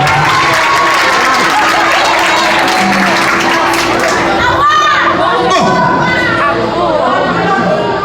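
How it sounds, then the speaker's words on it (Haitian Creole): An audience claps and cheers loudly and continuously throughout, a dense wash of applause and shouting voices with talk mixed in. "Applaudis, mesdames, applaudis, mesdames."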